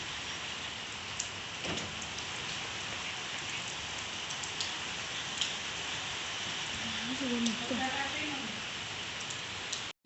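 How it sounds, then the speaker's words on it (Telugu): Heavy rain pouring outside at night, a steady rushing patter with a few sharp drips and a brief faint voice near the end. "చూసారు కదా వర్షం ఎలా పడుతుందో"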